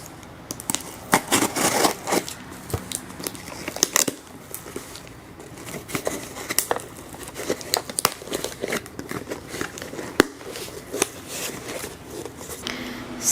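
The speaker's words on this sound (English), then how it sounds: "I am going to use my handy dandy scissors to open it" Scissors snip and slice through the tape and cardboard of an Amazon package box, with crinkling, scraping and rustling bursts that come close and irregular over quiet room tone.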